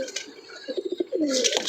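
Male pigeons coo in short rounded pulses, a close, clear burst of several throaty notes followed by a longer rolling coo, with no talk.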